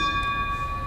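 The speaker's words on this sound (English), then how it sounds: "with the sounding of ships' bells" A ship's bell sounds at a Pearl Harbor memorial ceremony at Joint Expeditionary Base Little Creek Fort Story, a single sustained metallic ring with steady overtones lingering over faint outdoor background.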